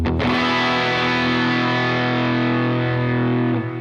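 A loud, sustained distorted electric guitar note ringing out with thick harmonics, played alone and slowly fading at the end.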